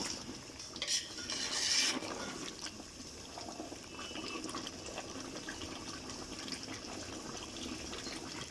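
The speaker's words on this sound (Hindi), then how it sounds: "और अब जो है इसको अच्छी तरह से मिक्स कर देंगे।" Ground cumin being stirred into a chicken korma in a pot, with soft scraping and wet mixing sounds and a brief clink of metal early on, fairly quiet and close with no talk.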